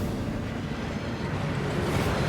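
The Thief's Downfall waterfall inside Gringotts in the video game Hogwarts Legacy gives a dense, steady rushing roar of falling water, loud and continuous throughout.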